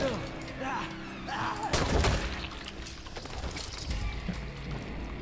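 Several sharp gunshot bursts crack out over continuous game noise in Dying Light, with a louder cluster near the middle and a voice talking throughout.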